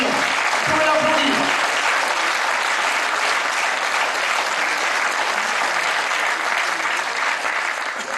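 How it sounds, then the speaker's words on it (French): An audience at a political meeting breaks into sustained applause, a steady dense clapping that fills the room for several seconds and fades slightly at the end, with a voice speaking briefly at the start. "Vous pouvez l'applaudir."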